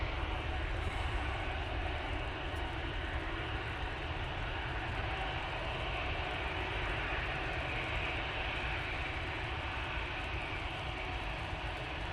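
Lufthansa CityLine airliner at Manchester Airport, a steady, moderately distant jet engine rumble that stays even throughout, with no voices over it.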